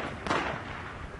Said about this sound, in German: Okay, Schüsse.